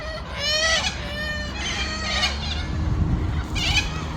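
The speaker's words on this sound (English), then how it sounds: "this is a white cockatoo. So that's what's making all the noise." Several white cockatoos screech outdoors in loud, harsh bursts, about three drawn-out rasping calls in a row over a rumbling background, fairly close and with no talking.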